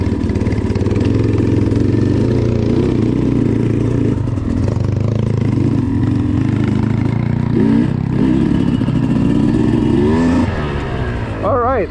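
A Thumpstar dirt bike engine runs steadily close by at low, labouring revs with a wavering throttle, during a beginner riding lesson, while a coach's voice talks over it throughout.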